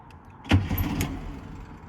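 A cold-natured 1972 VW Super Beetle engine cranks and catches, opening with a sharp thump then settling into a rough low running sound up close, with no talking.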